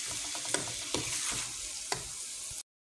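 Chicken breast frying with garlic and onion in a pan, a steady bright sizzle broken by several scraping stirs and clacks of the utensil, close and continuous until it cuts off abruptly.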